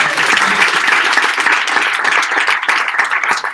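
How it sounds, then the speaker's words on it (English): A large audience applauds a team at a genomics hackathon's final presentations, dense and continuous clapping that stays loud from start to finish. "Big round of applause for this team."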